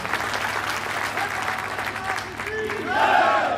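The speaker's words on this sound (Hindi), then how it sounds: "तालियों से स्वागत करते हैं" A crowd claps continuously at a BJP campaign event in Khijriwas village, Tijara, India, dense applause throughout, with a voice briefly audible toward the end.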